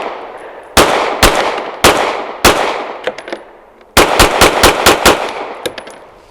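A Grand Power Q100 Mk12 pistol fires a string of sharp, loud shots, several spaced single reports followed by a rapid burst of closely spaced shots, heard alone with no talking.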